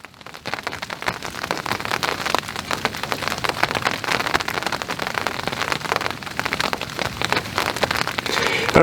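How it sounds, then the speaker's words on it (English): Steady rain drums on the surface around a bikepacking campsite, a dense, even patter that holds unbroken and fairly loud from start to finish with no voices. "It's raining."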